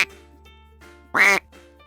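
A duck gives one sharp, nasal quack, close and clear, set against faint, quieter sounds on either side.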